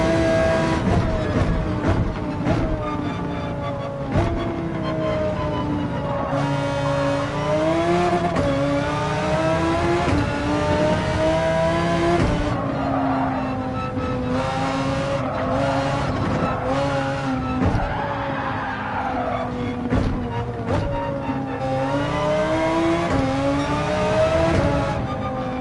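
Audi R8 race car in a racing video game, its engine droning and shifting pitch continuously with revving and occasional tire squeal, loud and steady throughout, with music-like tonal layers.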